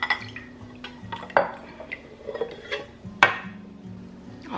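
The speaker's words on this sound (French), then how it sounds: "ce que je vais faire c'est prendre mes pêches, les vider dans mon saladier ici et les couper en petits morceaux" Canned peaches tipped with their juice into a salad bowl, giving a few soft clinks of utensil on bowl and wet plops, close and fairly quiet with no talking.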